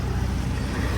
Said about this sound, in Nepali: गाडीको आवाजले केही सुनेको छैन होला